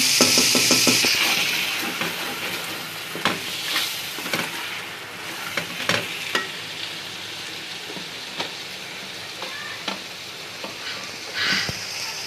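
Beef keema with peas frying in ghee, a loud bright sizzle that eases into steady crackling, with occasional spoon scrapes and clinks against the pan, close up.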